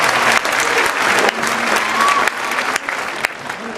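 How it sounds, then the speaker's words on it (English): A large graduation audience applauds the class president with steady, full clapping. The applause is loud and continuous, with a few sharper claps standing out and slight dips as it carries on. "Can you please give her a round of applause to recognize her hard work."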